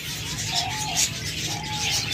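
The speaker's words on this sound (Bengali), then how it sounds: "চমৎকার এই ডায়মন্ড ঘুঘু জোড়াগুলো" A pair of diamond doves coo softly in two short phrases, fairly near and quiet against a low background hum.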